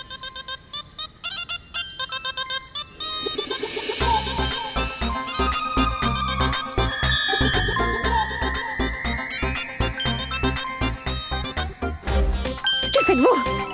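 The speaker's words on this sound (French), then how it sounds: "C'est une sonnerie." A mobile phone ringtone plays a bright, repeating electronic melody in a domestic scene of a Bollywood TV drama, steady and fairly loud for about fourteen seconds, with people talking over it at times.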